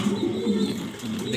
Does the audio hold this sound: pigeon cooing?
yes